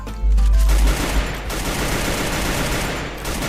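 Gunfire in Free Fire, with a loud burst of rapid shots up front followed by dense, sustained automatic fire and scattered battle noise, close and heavy.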